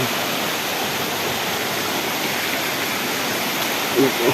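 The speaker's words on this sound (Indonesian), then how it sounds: "Walungan teh sungai." River water rushing near a waterfall, a loud, continuous broadband roar of flowing water that stays steady throughout, with no gaps.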